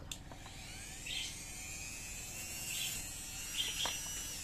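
A high-pitched whirring power tool runs continuously up close, polishing a Yamaha Mio Sporty scooter part, its pitch wavering slightly as it grinds against the surface.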